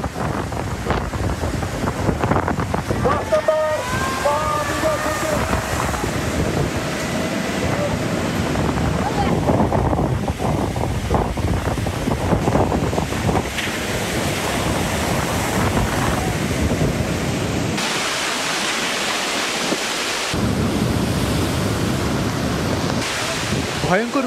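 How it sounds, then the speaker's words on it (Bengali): Rough sea surf and gusty wind from Cyclone Remal lash the Bangladesh coast, a loud, continuous roar of breaking waves with wind buffeting the microphone throughout. "বয়ে যাচ্ছে দমকা ঝড়ো হাওয়া।"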